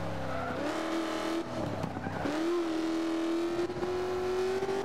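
A race car engine in a video game revs and sustains a high whine on the Le Mans track, dipping at a brief gear change or skid before climbing again, close and continuous with no talk.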